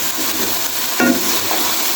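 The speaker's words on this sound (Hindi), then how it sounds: "हम 2 मिनट तक इसकी बुनाई करेंगे।" Cauliflower and peas stir-fried in a pan for gobi matar, giving a steady close sizzle with scraping stirs and a brief louder clatter near the middle, with no talking.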